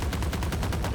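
A Vandal rifle fires a sustained spray in the game Valorant, a fast, even rhythm of sharp shots, about ten in a single second, loud and close.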